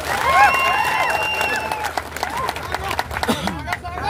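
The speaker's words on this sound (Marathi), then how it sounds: "नितेश राणेंचं टाळ्या वाजवून जरा अभिनंदन करा" A crowd at a political rally in Markadwadi breaks into scattered applause, the clapping rising and falling while a voice carries over it and a few whistle-like tones ring out early on.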